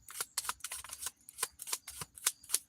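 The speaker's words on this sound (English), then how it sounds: "I'm done shuffling these cards like this" Tarot cards being shuffled by hand, a run of soft riffling bursts and flicks repeating in an uneven rhythm, close and fairly quiet with no voices.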